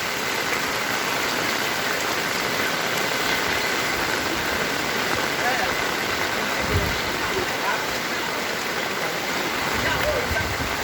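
Heavy rain pours steadily onto a street in The Gambia during the rainy season, a dense continuous hiss with splashing, while kids play outside in the downpour; faint voices blend into the wash of water.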